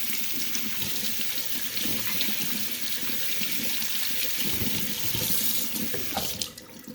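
Blue crabs are rinsed under a running tap, a loud, steady broadband gush of water hissing into a sink that continues for several seconds before easing near the end.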